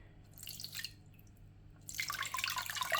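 Water flows from an AQQA aquarium filter as a soft, steady splashing and trickling, fading briefly before surging back louder and fuller.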